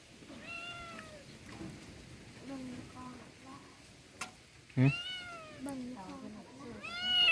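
A cat meows several times nearby, drawn-out wavering cries rising and falling in pitch, with a sharp tick and a louder yowl near the end over a murmuring background.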